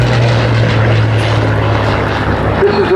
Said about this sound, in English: here comes the Hurricane to do his display